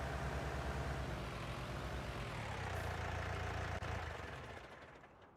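Tractor engine in a farming video game, a low, steady rumbling drone with a rhythmic throb that fades away at the end, quiet and with no talking.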